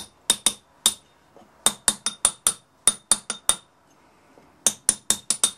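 Sharp metallic taps loosen a casting pattern in a sand mould, struck in quick clusters of two to five. Roughly twenty crisp, close knocks, with quiet pauses between the groups.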